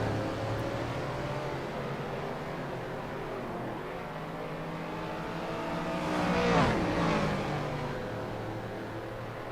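Historic 1960s GT race cars at the Clermont-Ferrand circuit, engines droning at a distance, then one car swells closer around the midpoint, revving hard as it passes and fades away.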